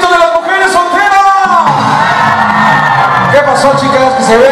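A crowd of single women at a sonidero dance event in El Molinito, Naucalpan, shouts and whoops loudly, with rising and falling cries layered over one another and over music.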